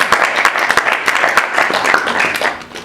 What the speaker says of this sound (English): So can we get a round of applause for him?